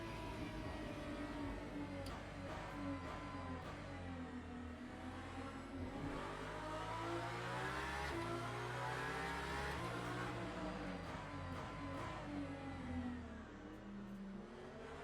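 Race car engines in a Le Mans endurance racing game, a sustained loud engine howl rising and falling through gear shifts, with another car's engine droning close alongside throughout.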